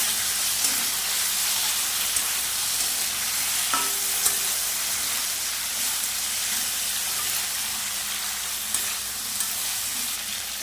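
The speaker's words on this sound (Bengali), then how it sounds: "এবার লঙ্কা বাটাটা দিয়ে দেবো।" Chili paste fries in a pan for prawn malai curry, a continuous loud sizzle and hiss with occasional spatula scrapes and taps, heard close and alone throughout.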